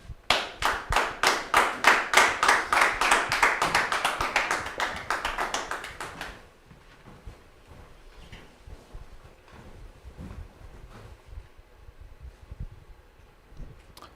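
An audience claps enthusiastically to welcome guests onto a stage, with rapid, loud applause for about six seconds that then stops abruptly, leaving a quiet room with faint movement.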